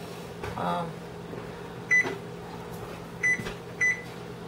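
Three short bright electronic beeps from an oven's control panel as the preheat temperature is set, spaced over a few seconds, preceded by a soft thud and a brief voice against a quiet kitchen hum.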